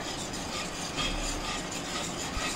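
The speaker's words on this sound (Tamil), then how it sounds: "மிக்ஸ் பண்ணிகிட்டே வாங்க." A spoon steadily scrapes and rubs through thickening custard in a pan, giving a continuous gritty stirring sound at close range. It is soft but constant, with no voices.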